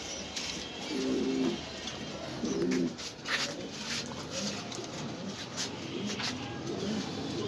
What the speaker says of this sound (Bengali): অনেক কবুতর আছে ভাই